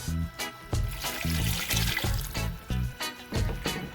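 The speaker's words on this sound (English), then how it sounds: "So I'm going to add some more broth to mine." Broth pouring into a pan of smothered pork chops with sweet peppers, a steady splashing liquid stream with rhythmic gurgling pulses, close and continuous.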